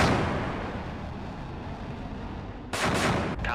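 A vertical-launch missile salvo fires in the Cold Waters submarine game: a steady, heavy roar rumbles throughout, then sharp, loud blasts burst out near the end, with no voices.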